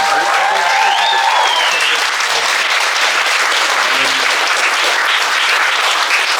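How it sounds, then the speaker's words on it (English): An event audience breaks into a dense, sustained round of applause for the speakers, the many hands clapping loudly and evenly throughout, with faint voices briefly audible beneath. "can we give one more round of applause to all the speakers?"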